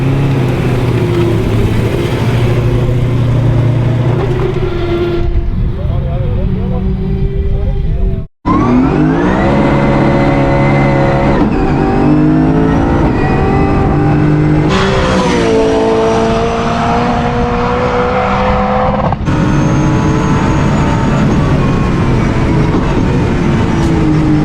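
A car lapping a race track on the approach to the long Gerrards corner, engine loud and close with shifting pitch as it revs and changes gear, briefly cutting out near the middle before surging back.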